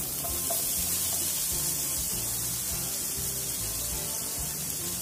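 Chopped onions sizzle steadily in hot oil seasoned with whole cumin, bay leaves and green and red chilies, a continuous close, even hiss of frying with no talking.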